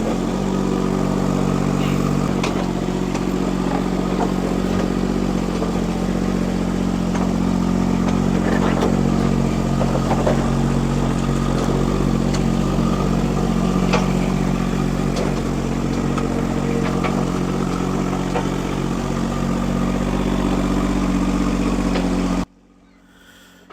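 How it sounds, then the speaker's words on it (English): A small micro digger's engine runs steadily and loudly at close range on a drainage job, a constant low rumble with clattering mechanical texture, holding even for over twenty seconds before dropping away abruptly. "We've got the little micro digger around the back."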